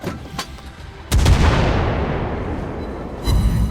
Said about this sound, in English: Just a little bit annoying that you get to hear the gun sounds as much as as loud as this